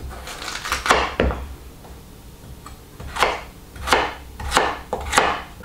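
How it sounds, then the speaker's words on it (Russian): Knife chopping raw potatoes into cubes on a cutting board, heard as a run of sharp, close, irregular taps in small bursts with brief pauses between them and no talk. "Давайте кубиками еще сделаем."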